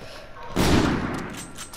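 A burst of gunfire in Call of Duty, two close, loud shots merging into one broadband blast that trails off over about a second.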